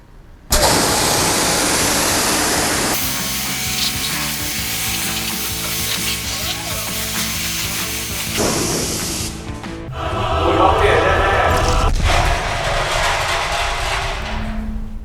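Hissing spray of water rinsing a car during hand washing and cleaning, a loud steady rush that shifts in tone as the spray moves across different surfaces, with no talk.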